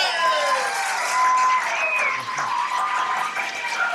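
A concert audience claps and cheers in sustained applause, a dense close wash of hands with a few whoops and voices mixed in.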